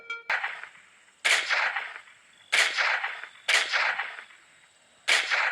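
Gunfire in a video game shootout, four loud sharp shots spaced about a second apart, each with a bright crack and a trailing echo that fades before the next.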